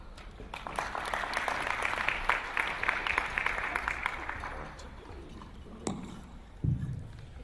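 A conference audience applauds to welcome a speaker at an investment event in Southern Africa. The steady, moderate clapping swells for several seconds and then fades, followed by a couple of soft thumps.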